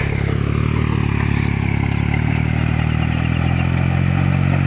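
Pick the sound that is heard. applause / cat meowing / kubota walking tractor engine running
kubota walking tractor engine running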